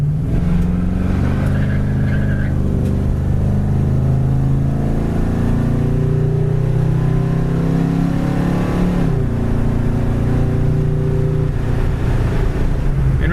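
A 1973 Ford Gran Torino Sport muscle car drives along with a steady, close engine drone that shifts pitch partway through as it changes speed.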